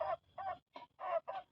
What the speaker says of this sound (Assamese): মুৰ্গী দুটা